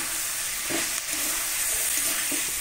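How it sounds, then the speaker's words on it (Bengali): Vegetables with ground cumin, turmeric and freshly ground ginger fry in a pan, making a steady sizzle with a few soft scrapes and knocks of stirring, cooked without onion or garlic. "আদা দিয়ে একটু ভালো করে নেড়ে নেব"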